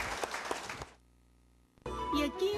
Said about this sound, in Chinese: 我们热烈掌声啊，恭请圆林法师来跟大家分享